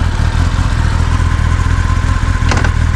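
A Kawasaki ZX-10R motorcycle idles steadily with a low, even engine rumble, and a brief mechanical clunk is heard as it is knocked into first gear.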